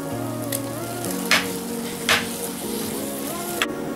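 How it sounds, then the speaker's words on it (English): Masala for a Kottayam-style red Kerala fish curry sizzles and crackles steadily in a pan, with a few louder bursts of spitting and scraping as it is stirred, close and continuous under a background hum. "Fry it well till the raw smell go"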